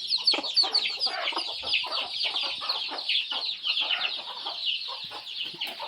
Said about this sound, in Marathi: ही बघा, ही खूप ॲग्रेसिव्ह आहे कोंबडी, पण चांगली पिल्लं सांभाळते.